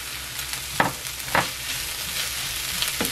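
Blanched bitter melon stir-fries with oyster sauce in a hot pan, a steady close sizzle broken by a few sharp scrapes of a spatula tossing the vegetables.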